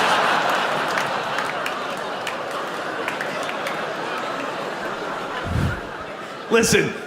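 Audience at a Louis CK stand-up comedy show claps and chuckles, a dense spread of applause tapering off, followed by a few brief bursts of laughter near the end.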